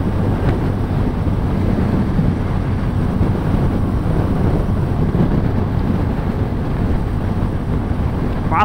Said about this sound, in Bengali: বাতাসটা অনেক প্রচুর